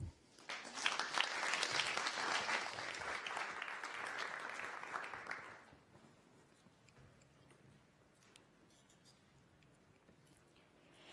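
An audience at a TEDx talk bursts into applause to welcome a speaker, a dense, bright clapping that holds strong for about five seconds, then cuts off and leaves a quiet room.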